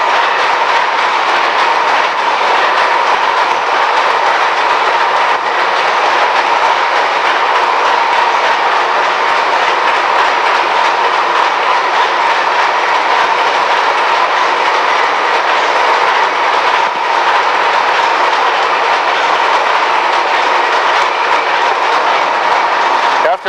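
A 1912 Snow 400 hp gas engine driving a high-stage compressor at a pipeline station, running as a loud, continuous, dense mechanical roar with a steady drone throughout.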